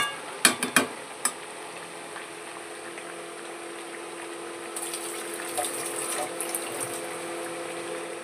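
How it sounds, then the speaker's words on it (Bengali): Water goes into a pot of frying meat. A few clanks of a utensil come first, then a steady low sizzle and bubbling that swells into a brighter hiss toward the end. "মাংসটা জল দিয়ে দিয়েছি,"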